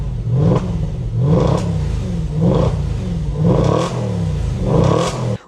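A BMW X5M with resonator deletes revs hard in repeated bursts, about five throttle blips in a steady rhythm, loud and close with a deep rumbling idle between each rise.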